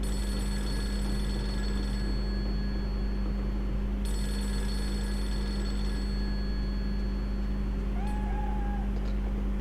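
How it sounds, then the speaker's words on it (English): A cat meows in the Fatal Frame 3 video game, a short wavering cry near the end over a steady droning ambience with electronic telephone-like ringing tones. "And the cat's scared of the phone or something."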